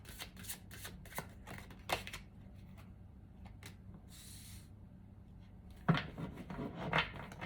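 Tarot cards are shuffled and drawn by hand, a quiet run of papery riffles and flicks. A firmer flurry of card slaps comes near the end, close but soft, with no speech.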